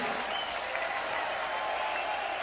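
A concert crowd at a tribute show at Hammersmith claps and cheers in a dense, continuous wash of applause, fairly close and loud.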